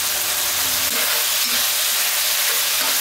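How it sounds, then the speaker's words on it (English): Loud, steady sizzling and hissing of beef frying in oil in a hot pan, a dense crackle that continues without pause. "The sizzle that you're hearing will be louder"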